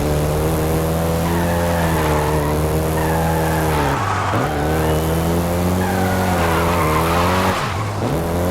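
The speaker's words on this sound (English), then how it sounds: "the Golf GTI you're driving right now" Volkswagen Golf GTI engine in Forza Horizon 5, a loud steady drone with rising and falling revs, two brief gear-change dips and tire squeal over a continuous road roar.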